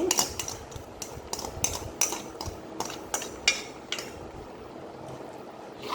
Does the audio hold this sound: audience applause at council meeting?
no